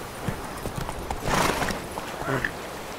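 Horse hooves clip-clopping in The Witcher video game, a few scattered hoof knocks and a brief whinny, moderately close, mixed with game ambience and a voice talking.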